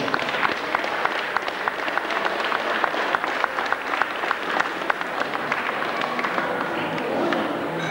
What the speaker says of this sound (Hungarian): Egy tapsot még egyszer kérünk szépen!